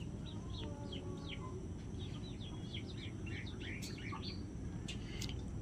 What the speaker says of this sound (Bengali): চারিদিকে মুরগির আওয়াজ আসছে খুব